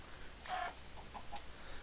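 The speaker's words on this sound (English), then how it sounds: "Dang it, chicken!" A chicken in the Minecraft video game giving a couple of short, bright clucks, faint against quiet background noise.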